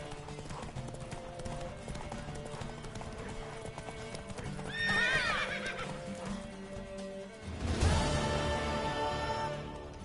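A mare gallops in The Witcher 3: Wild Hunt with rhythmic hoofbeats over a game music bed, whinnying partway through, then a louder burst of hooves and a neigh near the end.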